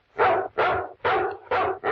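Dog barks four or five times in a steady rhythm, each bark full and close, with no talk over them, set in an old-time radio crime drama.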